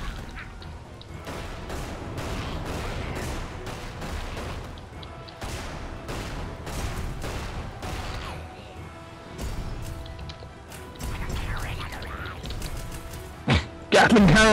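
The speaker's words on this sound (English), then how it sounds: "Gatling cannon!" Rapid-fire Gatling cannon bursts from the video game Magicka, a dense string of sharp repeated shots and crashes running almost throughout, with talk over the gunfire and a loud burst at the end.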